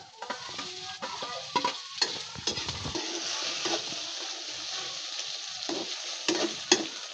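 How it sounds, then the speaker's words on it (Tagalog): Sliced hotdog frying in a pan for meaty spaghetti: a steady bright sizzle runs throughout, broken by close scraping and clinking as a utensil stirs the pieces, with no talking. "Unahin natin, lutuin muna natin yung ating hotdog."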